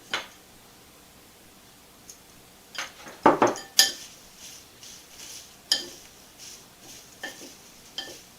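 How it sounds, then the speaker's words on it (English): Dry tea ingredients being mixed for a homemade herbal sleep tea, with scattered light clinks and scraping taps of a utensil against a bowl, close and intermittent over a quiet background. "Mix it to distribute it well, blend it well together."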